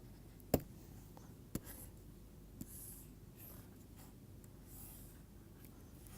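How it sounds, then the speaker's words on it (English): Hand drawing of a top-view Y-branch diagram during a lecture, a few faint, sparse scratching and tapping strokes of a pen on a quiet background. "I am drawing the top view."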